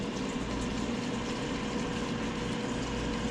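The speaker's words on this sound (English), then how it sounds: "is the air fryer" A steady, continuous whirring hum of a Chefman air fryer running, broadband and even throughout with no breaks, with a faint watery bubbling mixed in.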